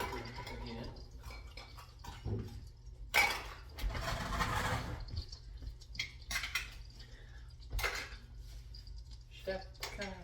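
Clattering of new pots and pans being washed under running water during kitchen cleanup, with intermittent metallic clinks and splashes over a steady tap hiss, and people talking nearby.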